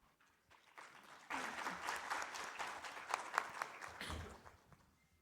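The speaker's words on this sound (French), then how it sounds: "Encore un applaudissement" Audience applause at the close of a panel discussion, a sustained burst of many hands clapping that swells quickly, holds steady for several seconds, then fades, with a faint voice near the end.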